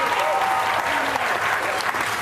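A large crowd applauds at a live television afterparty show, with loud, continuous clapping that stays steady throughout and has some voices and cheers underneath.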